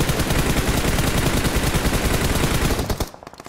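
Loud, close gunfire in the mobile battle-royale game PUBG Mobile, a rapid unbroken stream of automatic shots that cuts off abruptly, leaving a few fading echoes.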